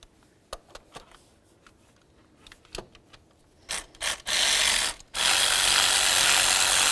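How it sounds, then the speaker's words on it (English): A ratchet loosens a 10mm valve cover bolt on a 2002-2007 Jeep Liberty. Sparse, sharp ratchet clicks come close by, followed by louder bursts of steady, rasping mechanical rubbing. "then we can get our ratchet on and start removing it"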